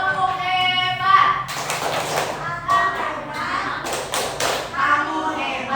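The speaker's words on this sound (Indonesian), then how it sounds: "kita kasih apresiasi untuk semua kelompok dengan tepuk hebat." A class does a rhythmic clapping cheer, with groups of claps and thumps in a patterned beat, mixed with children's voices chanting and talking over it.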